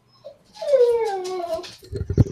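A dog lets out one drawn-out, falling whine, loud and close, during a tabletop role-playing game session; a few dull knocks and thumps follow right after.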